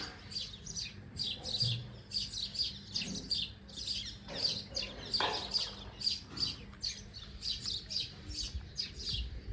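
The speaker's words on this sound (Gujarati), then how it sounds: "ત્યારે ચકલા બોલી ગયો." Rapid, repeated sparrow chirps, bright and fairly close, in quick bursts with brief pauses, over faint outdoor background noise.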